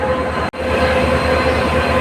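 A passenger train runs steadily with a loud, close interior rumble and rhythmic wheel clatter, broken by one brief dropout, with no talk.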